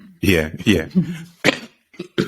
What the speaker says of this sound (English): Oh, this cough.